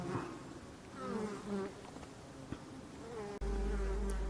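A hornet buzzes near wild local black bees at a marsh in Brittany. A faint, wavering insect drone rises and falls over a few seconds, close to the hive activity.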